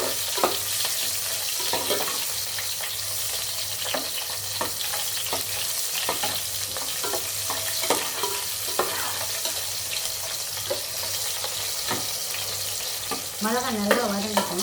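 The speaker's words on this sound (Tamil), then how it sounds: "மிளகாய் நல்லா வதங்கட்டும்." Green chillies frying in hot oil for biryani, a steady close crackling sizzle with occasional stirring clicks, continuous throughout without talk.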